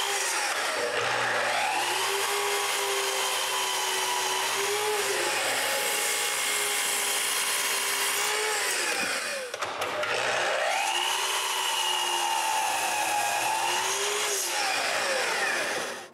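A power saw cuts wooden cabinet pieces to length with a loud, sustained whine. The pitch shifts as each cut goes through, then drops briefly before a second long cut.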